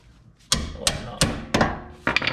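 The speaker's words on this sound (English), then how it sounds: "Knock this bolt out." Hammer blows knocking a bolt out during axle replacement on a Honda Accord, passenger side: five sharp metallic strikes at irregular intervals, close and loud, with ringing decay between hits.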